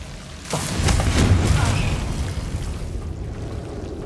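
Confringo blasting spell from Hogwarts Legacy going off in a sudden boom with a burst of crackling debris, then a rumbling tail that fades over several seconds, close and loud.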